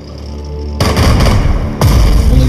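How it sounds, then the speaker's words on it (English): A tank fires on infantry in the World War II strategy game Strategic Mind: Blitzkrieg, two loud, close booming blasts with heavy rumbling tails, the second following about a second after the first. "Now finish off the infantry with the tank"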